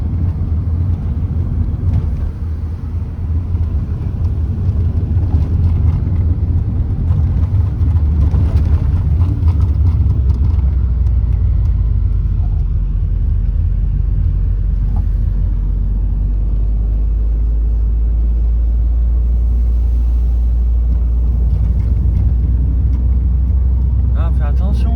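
A car rolls slowly along a small Italian back road toward Genoa, a steady low engine and road rumble close inside the cabin, with people talking over it.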